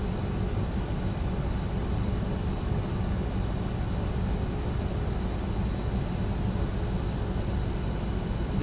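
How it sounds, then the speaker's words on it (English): Simulated GE turboprop engines 3 and 4 start up in the X-Plane 11 flight game, a dense, steady hiss and hum with faint tonal whine running unbroken throughout. "The GE engine sound effects sound pretty good."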